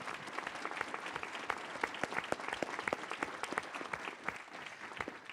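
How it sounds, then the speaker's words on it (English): An audience at a governors' conversation event claps for a governor, a sustained burst of many hands applauding together at moderate distance, steady for several seconds. "Let's give him a round of applause"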